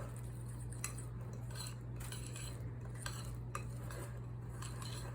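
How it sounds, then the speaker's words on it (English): A fork scrapes and clinks against a pot while stirring potato and red lentil soup, light irregular metallic taps and scrapes over a steady low hum, close and fairly quiet with no talking. "but I have a fork, so we're using a fork"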